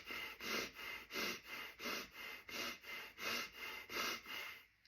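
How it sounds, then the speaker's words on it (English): Rapid hyperventilating Breath of Fire breathing, gasping into the chest: about ten quick, evenly spaced breathy puffs, close and soft. "It's like a gasping for breath into the chest."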